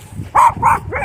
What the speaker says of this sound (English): A little dog appeared from nowhere and started barking at me.